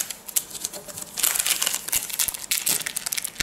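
A plastic zip-lock package holding a black face mask is handled and opened up close, giving bursts of crisp crinkling and rustling that rise and fall irregularly, with no voices.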